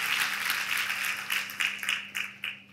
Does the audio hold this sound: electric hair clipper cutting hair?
no